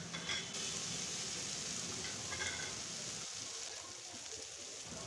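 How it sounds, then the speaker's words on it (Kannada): Tomatoes frying in oil in a pan, giving a steady, dense sizzle with light stirring scrapes, close and fairly loud throughout. "ಈಗ ಟೊಮೊಟೊ ಫ್ರೈ ಆಗಿದೆ."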